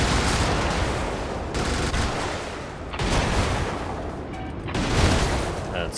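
A fireball-shooting gun in the Brigador mech game firing in three heavy roaring bursts, each a loud close blast with rumbling decay, one after another without talk.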